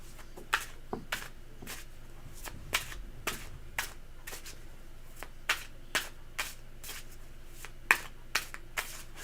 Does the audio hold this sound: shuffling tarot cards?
yes